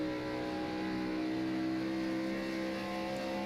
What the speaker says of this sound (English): you can hear just how much these cars are breaking traction on trying to get back to the throttle.